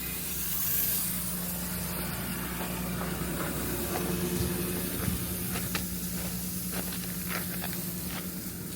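Continuous hiss of water spraying from an LSS wildfire sprinkler system fed by a small Honda pump at a luxury home, with a steady low pump hum and scattered pattering droplets.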